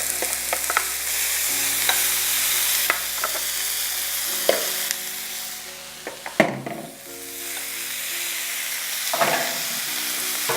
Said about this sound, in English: we just stir them around a little bit, get all that spices burning, get everything going